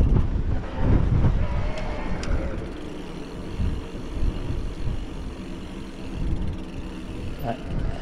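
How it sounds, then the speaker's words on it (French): Steady wind roars and buffets across the microphone during an electric-assist mountain bike ride in the countryside near Eugi, a continuous broadband rush with occasional gust swells and faint mechanical noise beneath. "Le vent s'est levé, c'est agréable."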